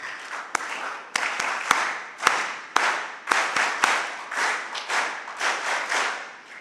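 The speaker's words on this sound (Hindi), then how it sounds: "तो बोलना होता है वीर ताली" Participants at a personality-building camp in an ashram perform group 'veer taali' clapping: sharp, loud individual claps ring out irregularly over a softer, swelling wash of collective applause.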